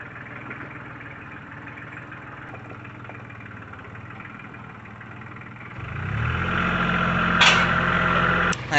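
An antique tractor engine runs at a low idle on a farm during corn grinding, a steady mid-low rumble that swells louder and rougher partway through as the load or throttle increases.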